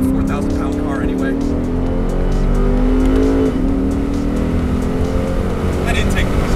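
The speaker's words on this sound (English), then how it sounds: "That intake noise is just so sweet." A 2015 Lexus RC F on a racetrack gives a loud, sustained engine and intake roar from inside the car, steady with a slight pitch shift midway as it pulls.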